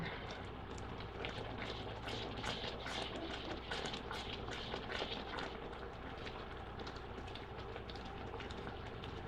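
Sugar syrup for peanut brittle bubbling in a pot on the stove, a dense, even stream of small pops and fizzing that stays close and steady for the whole stretch.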